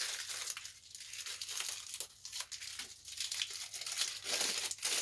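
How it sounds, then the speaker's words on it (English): Close, crackly crinkling of baking paper being pressed and folded, continuous with uneven bursts and no voices. "So we've got some baking paper, or greaseproof paper"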